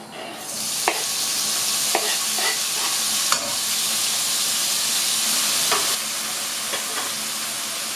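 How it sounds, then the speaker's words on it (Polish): Bacon frying in hot fat in a pan, a steady close sizzling hiss with a few sharp pops and crackles scattered through it. The sizzle eases slightly near the end. "Boczek się podsmaża."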